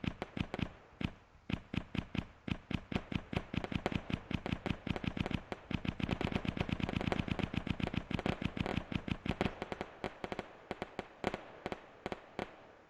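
Rapid bursts of explosions from a coded game, dozens of sharp popping blasts in quick succession like fireworks or gunfire, steady and dense throughout with no talking.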